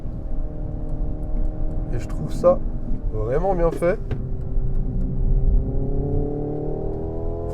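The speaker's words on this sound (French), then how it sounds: "j'ai le son moteur avec du coup, le son thermique" Synthesized combustion-engine tone from a Hyundai Ioniq 5 N electric car, 650 hp, heard from the cabin as a steady low rumble running throughout, with someone talking over it.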